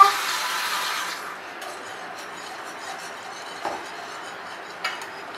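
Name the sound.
stirring semolina pudding mixture in a pot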